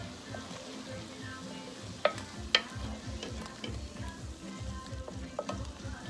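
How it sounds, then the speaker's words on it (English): A pot of curry chicken stew with bay leaf, salt and pepper gets stirred, soft scraping and sloshing in a slow repeating rhythm over a low simmer, with a couple of sharp utensil clinks and no talking. "going to throw in a bay leaf, some salt, some pepper, and then we're going to mix this up."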